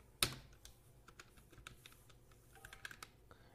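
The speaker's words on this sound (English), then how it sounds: "let me type hello world." Keys on a computer keyboard tapped in a quiet room while entering a short line of HTML text, with one sharper key strike at the start followed by a light, irregular run of faint clicks.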